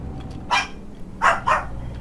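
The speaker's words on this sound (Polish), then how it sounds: "Dobrze, że to jest taki mniejszy pies, z Pekinczyków, a nie kurde z takich wielkich." A small Pekingese dog barks three times, a single yap followed by two quick barks close together, each sharp and moderately loud over a faint steady background hum.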